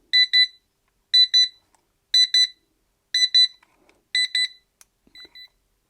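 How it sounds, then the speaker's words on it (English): Portable digital timer alarm beeping at maximum volume in five evenly spaced bursts of rapid double beeps, loud and close, then a fainter final beep. "If you hang on a second, you'll hear the alarm."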